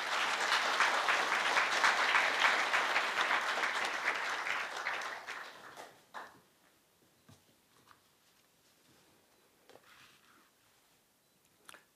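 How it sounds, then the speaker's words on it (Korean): A crowd at an honorary doctorate conferment ceremony at Korea University applauds loudly for about five seconds, then the clapping fades out, leaving scattered faint claps and room noise. "뜨거운 박수로 환영해 주시기 바랍니다."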